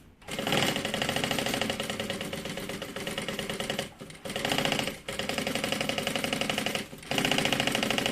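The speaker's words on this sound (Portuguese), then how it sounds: "a gente vai fazer uma costura bem na beiradinha mesmo, só pra segurar esse forro" A sewing machine stitches close along the edge of a bag lining in a rapid, steady mechanical chatter. Several runs are broken by brief stops, close and clear, with no talking.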